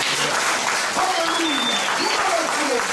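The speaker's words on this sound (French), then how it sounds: "Acclamons très fort." Applause from a church congregation during a sermon, steady dense clapping throughout with voices calling out over it.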